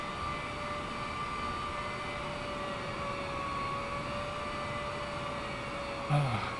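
Boeing 787 Dreamliner jet engines in Microsoft Flight Simulator, a steady faint whine and hum with a sustained tone, idling as the plane sits among taxiways.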